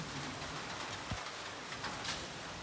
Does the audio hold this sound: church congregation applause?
no